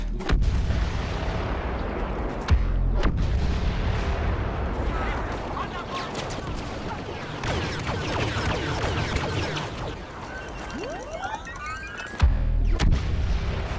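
Explosions and gunfire in the video game Star Wars Battlefront, heavy booms and rapid shots rolling over a dense, loud battle din with sharp blasts near the start and end, while someone talks over the action.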